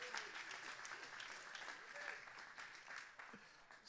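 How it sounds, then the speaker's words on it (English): A church congregation claps together in a steady, rhythmic crowd wash, with voices calling and talking over the clapping. "and clap for the Lord in this place."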